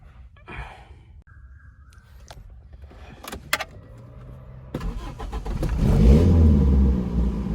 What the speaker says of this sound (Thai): มาฟังเสียงเครื่องยนต์กันดีกว่าครับ